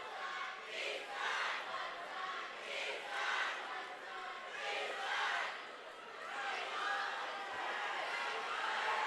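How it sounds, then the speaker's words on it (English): At a high school basketball championship game, Springfield fans chant in a large crowd, rhythmic swells of massed voices rising and falling in steady waves across the gym. "Springfield fans are chanting"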